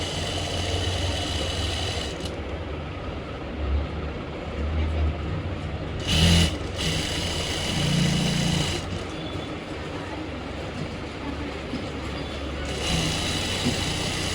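A sewing machine stitches a seam on pants fabric, a steady mechanical whir that runs throughout with a few brief louder bursts and shifts, close by.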